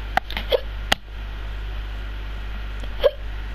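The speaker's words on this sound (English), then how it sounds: "Now I have hiccups." Three short, sharp hiccups from one person, two close together near the start and one more about two seconds later, heard over a steady low electrical hum.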